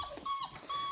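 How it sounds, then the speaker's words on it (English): Puppies whimpering, a few thin high-pitched whines in quick succession, close and brief with no talking. "Y'all are fat puppies."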